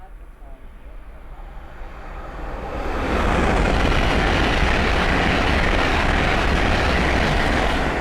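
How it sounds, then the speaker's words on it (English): A Hull Trains Class 800 running from Leeds to London King's Cross swells from quiet to a loud, sustained roar as it passes close by at speed on the East Coast Main Line at Sandy. "the next train to pass by is a Hull train 800 going from Leeds to London King's Cross"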